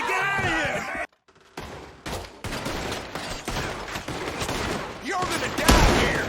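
Gunfire in a Red Dead Redemption 2 shootout: a rapid fusillade of sharp shots, some near and loud, others overlapping in bursts after a brief pause, with shouted voices at the start.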